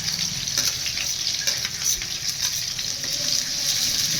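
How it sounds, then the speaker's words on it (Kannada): Onions frying in oil in a pan for instant upma, after cumin and green chillies have gone in, giving a close, continuous crackling sizzle with soft scraping stirs and no talk. "ಈರುಳ್ಳಿ ಫ್ರೈ ಆದ ನಂತರ ಚೆನ್ನಾಗಿ ಈರುಳ್ಳಿನ ಫ್ರೈ ಮಾಡ್ಕೊಬೇಕು"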